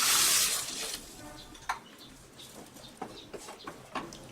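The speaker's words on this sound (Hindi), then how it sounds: "डालेंगे 1 गिलास पानी।" A glass of water poured into a pan of cooked vegetables for pasta. A short, loud splashing rush is followed by quieter sizzling, bubbling and occasional light clinks of cookware.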